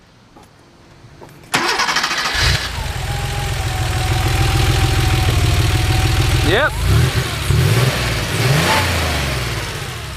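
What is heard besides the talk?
1988 Porsche Carrera Targa engine starting and revving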